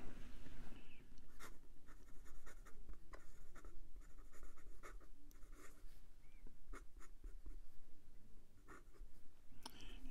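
A PenBBS 323 fountain pen with a calligraphy nib number 2, filled with Ferris Wheel Press ink, scratching steadily across paper, close up, with continuous soft scraping strokes and brief pauses between words.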